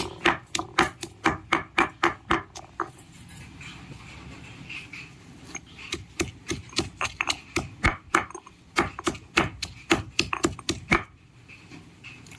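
Fresh ginger and garlic being pounded into paste, a steady series of sharp rhythmic thuds close by, briefly pausing and then resuming at an uneven pace.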